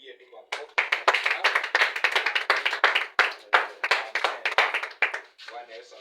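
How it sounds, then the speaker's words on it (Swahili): A church congregation clapping together at the end of a prayer service, a burst of rapid, fairly even handclaps that swells and continues for several seconds before tapering off, with a voice briefly audible at the start and end. "Wapigie ni makofi"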